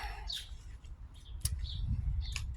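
Several small birds chirp and tweet in short bursts around a rooftop bird feeding spot outdoors, bright calls scattered over a quiet low background hum.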